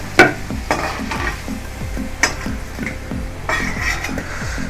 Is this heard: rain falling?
no